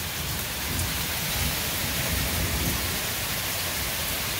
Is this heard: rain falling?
yes